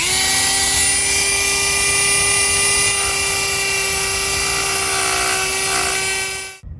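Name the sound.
power tool sanding curb rash on truck wheel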